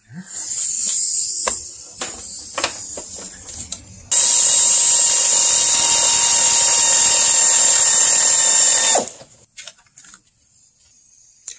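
A ratchet wrench clicks in short bursts while tightening the upper engine mount bolts on a second-generation Ford Fusion 2.0 EcoBoost, followed by a longer loud spell of rapid steady ratcheting that stops abruptly into near quiet.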